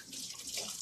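Water runs steadily from a kitchen sink tap for rinsing, a soft continuous splashing hiss heard alone for under a second.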